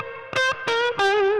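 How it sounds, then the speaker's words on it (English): Electric guitar played through a Fender '68 Custom Vibro Champ amp with fuzzy distortion and reverb added, three loud sustained chords ringing out one after another with lush tails. "Let's put some reverb"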